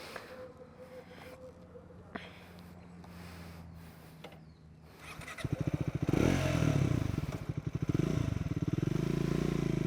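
A Triumph 400 XC motorcycle engine starts after a quiet stretch, then idles and revs with a loud, close, pulsing exhaust note that fills the second half.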